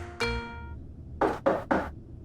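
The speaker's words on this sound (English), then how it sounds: "Hey, hold on, someone's at the door." Three distinct knocks on a door, evenly spaced and fairly loud, sounding after a brief tonal chime and with no talking.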